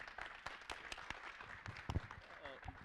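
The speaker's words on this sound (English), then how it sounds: "Big round of applause for Lewis" An audience at a student pilot induction gives a round of applause, with steady scattered clapping at moderate distance that continues under a voice speaking.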